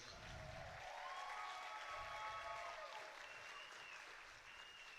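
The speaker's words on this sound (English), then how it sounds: "give a round of applause coming up to Mr. Woody Thompson" Faint, distant applause from the crowd at a US Open victory night event, an even spread of clapping with thin tonal sounds running over it.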